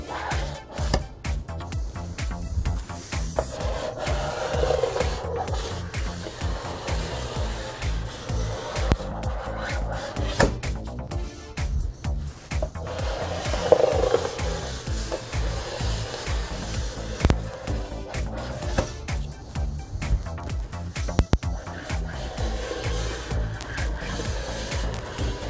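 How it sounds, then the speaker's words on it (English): A plastic scraper drags hot wax off a snowboard base in repeated rough, rasping strokes, a steady scratchy texture with occasional sharper scrapes throughout. "you can just keep scraping over that one spot till it's smooth"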